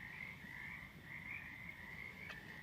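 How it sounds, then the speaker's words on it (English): Frogs croaking at Tahkenitch Lake, Oregon, a dense chorus of many frogs trilling continuously in a steady, unbroken wall of sound at moderate distance, with no voices. "Can you hear the frogs? I can't hear anything but the frogs."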